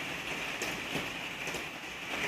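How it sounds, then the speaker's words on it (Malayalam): Steady rain falls outside, an even hiss with faint scattered drops running unbroken, moderately close, with no voices. "നല്ല മഴയാണ് ഇവിടെ, അതിൻ്റെ സ്വരമാണ് കേൾക്കാൻ."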